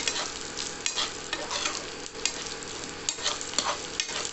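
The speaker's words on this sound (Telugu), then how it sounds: "పోపు వేగాక ఉల్లిపాయలు వేసి బాగా కలపండి" Onions sizzle loudly in hot oil with tempering spices while a spatula scrapes and stirs them in quick, repeated strokes around the pan.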